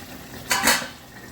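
A lid set down on a cooking pot of fish curry with black cumin, a single brief metallic clank and rattle, close and clear against quiet kitchen background.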